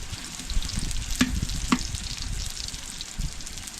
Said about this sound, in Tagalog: Naigisa na po aring karne saka yung meatball.